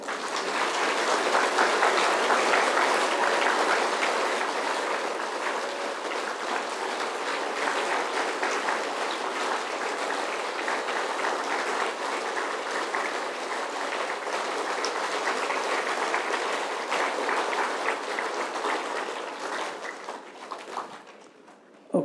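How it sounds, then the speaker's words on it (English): An exercise class claps hands in unison, a long run of fast, even claps from a group that carries on for about twenty seconds before fading out at the end. "50 times clapping."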